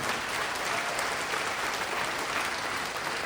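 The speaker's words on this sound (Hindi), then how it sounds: "इस संस्था के लिए जोरदार तालियां होनी चाहिए।" Loud, sustained applause from an audience honouring an organisation at a product-plan presentation, steady dense clapping throughout with no voices.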